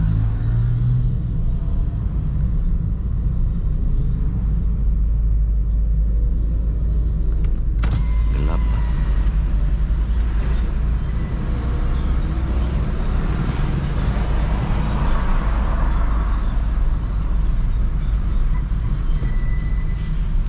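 A car engine drones steadily at low revs while held in second gear, creeping slowly up an incline; a constant low rumble of road and engine noise fills the whole stretch with little change in pitch.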